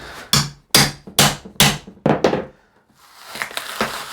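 MDF cracking and splitting as glued plywood is pried off it, a run of loud sharp cracks close by, then quieter scraping and creaking.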